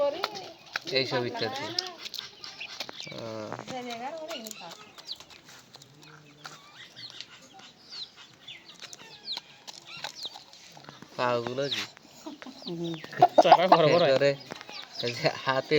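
A very large broiler rooster, about ten kilograms, gives intermittent clucks and calls close by, interleaved with people talking.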